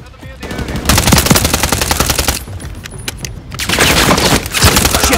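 Loud, rapid automatic gunfire in Call of Duty Modern Warfare 3, with close machine-gun bursts and single cracks separated by brief lulls, and some in-game voices.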